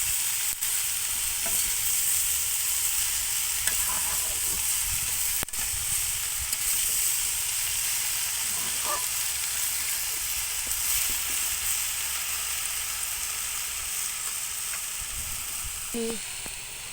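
Spinach, potato and eggplant fry in a pan for a vegetarian spinach dish, with a constant dense sizzle and hiss and occasional soft stirring knocks, close and steady throughout.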